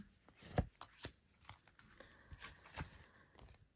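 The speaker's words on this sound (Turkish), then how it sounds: "Şöyle bir kart çekelim" Tarot cards shuffled and drawn by hand, a sharp slap followed by soft papery rustles and light shuffling taps, quiet and close with no speech.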